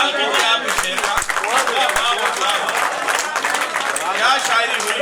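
Loud, sustained applause from a crowd at an Urdu poetry recital, dense clapping that fills the whole stretch and stays steady throughout, with a few voices calling out over it.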